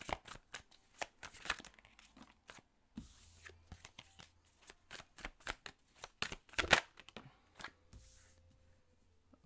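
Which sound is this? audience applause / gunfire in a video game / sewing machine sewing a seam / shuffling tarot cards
shuffling tarot cards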